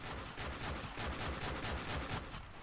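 Dragunov sniper rifle firing in Call of Duty 4, a run of loud, rapid gunshot bursts at a fairly even rhythm, blending into continuous gunfire with no pause over the short stretch.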